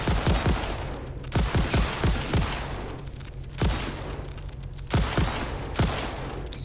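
Gunfire at spiders in the game Satisfactory: rapid loud bursts of shots in quick clusters, with short gaps between volleys.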